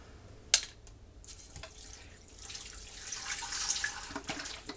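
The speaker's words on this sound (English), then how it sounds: "I'm going to add 1 container of this chicken broth" Chicken broth poured from a container into a pot, a soft continuous liquid splashing that swells slightly toward the end, preceded by a sharp click.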